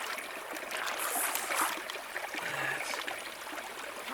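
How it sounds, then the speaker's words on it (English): Creek water flowing steadily in the Utah backcountry, a continuous close trickle and babble with gurgling splashes, no voices. "I'm gonna stop here at the creek and filter some water"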